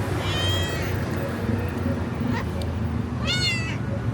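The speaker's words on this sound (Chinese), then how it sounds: "哇，有一只猫，我就说怎么有猫的叫声。" A cat on a street in Jakarta gives two short, rising meows a few seconds apart over a constant hum of city background noise.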